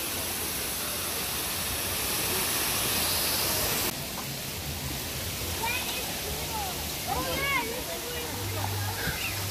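Waterfall in Banos, Ecuador, heard as a steady broadband rush that runs the whole time, louder in the first seconds, with scattered voices and faint street sounds over it.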